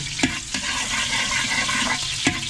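Garlic sautés in a pan, giving off a steady loud sizzle and hiss with occasional scraping stirs, no voices heard.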